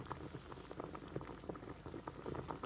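Homegrown potatoes boil in a pot of water, giving a steady, busy bubbling and popping that stays close and even throughout, with no voices.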